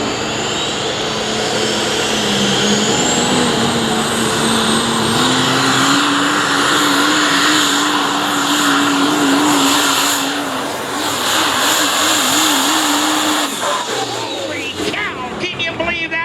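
Super stock diesel Dodge Ram truck roaring down the track at a truck and tractor pull, a loud sustained engine drone whose pitch climbs steadily before dropping off near the end, with crowd and announcer noise underneath.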